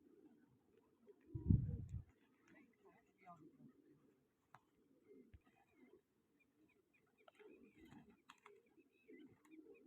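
Pigeons coo faintly at a pigeon-flying contest, their soft low calls scattered under nearby talking, with one louder close burst near the start.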